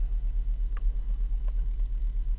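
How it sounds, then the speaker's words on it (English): A VW A5 engine idles slightly high while warm, with an intermittent stalling fault and EPC light. It gives a steady, close, low rumble with a few faint ticks and no talk. "It's got a bit of a high idle right now."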